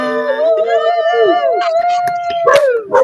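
A dog howls loudly and up close, a long wavering tonal howl that rises and bends in pitch with a few yips and yelps breaking in near the end.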